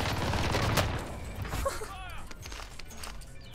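A light machine gun fires in Warzone, a rapid dense burst of shots up front that breaks into scattered bangs and mechanical clatter, fading toward the end.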